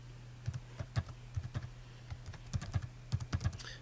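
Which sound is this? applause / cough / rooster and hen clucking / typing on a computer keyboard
typing on a computer keyboard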